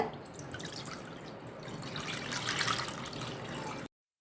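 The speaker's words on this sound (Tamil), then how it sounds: "நம்ம 1/2 லிட்டர் அளவுக்கு பால் எடுத்து வச்சுருந்தோம். அதையும் இப்போ கடாயில் சேர்த்துக்கிறேங்க." Half a litre of milk being poured into a kadai for kulfi, a steady close liquid pour that swells slightly toward the end and then cuts off abruptly.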